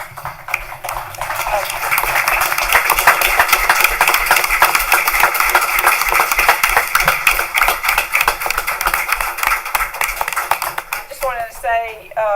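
A round of applause at a county board of commissioners meeting honoring a coach, sustained clapping from the audience lasting several seconds before a voice cuts in at the end.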